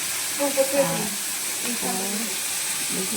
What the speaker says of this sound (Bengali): পেঁয়াজ দিয়ে দেওয়া হচ্ছে তেলের মধ্যে